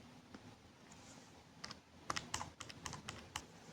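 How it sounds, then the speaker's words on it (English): Numbers are keyed into a calculator, a quick run of small plastic button taps that grows denser toward the end, close but quiet over a faint room hiss, with no talking. "I'll type this into the calculator now."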